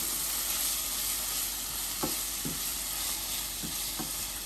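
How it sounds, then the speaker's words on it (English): Seasoning sautéing in a pot for a Jamaican-style canned mackerel or corned beef dish makes a constant loud hiss, with a few brief spoon scrapes near the end and no talking. "So we're gonna saute."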